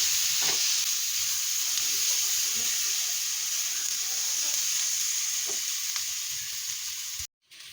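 Whole spices with bay leaf and cumin frying for a garlic beef curry, giving a constant close hiss of sizzling oil with faint stirring clicks before it cuts off abruptly near the end.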